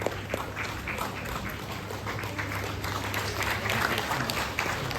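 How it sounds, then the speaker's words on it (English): Audience at an awards event applauding a district police officer: a sustained spread of clapping from a crowd, fairly soft and roomy, with occasional sharper claps and a low hum beneath. "A big round of applause for the Additional Superintendent of Police, Kalimpong District"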